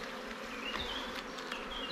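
Agitated honeybees buzz at an open hive in odd weather, a steady dense drone with a few higher whining passes of single bees flying close to the listener.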